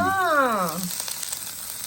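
Loud sizzling and crackling of Hong Kong-style noodles frying crisp in hot oil, steady throughout, with a brief tonal whine at the start.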